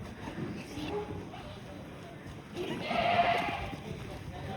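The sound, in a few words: goats bleating on a goat farm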